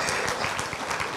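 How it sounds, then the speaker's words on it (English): Brief burst of crowd applause at a high-level conference dialogue in Kampala, Uganda, steady and fairly loud clapping throughout. "Round of applause, please."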